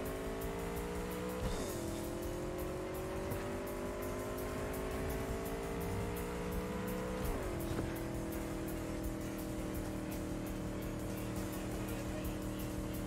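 An engine of a car in Cyberpunk 2077 revs continuously on the streets of Night City, the pitch climbing steadily and dropping twice at gear shifts, loud and close.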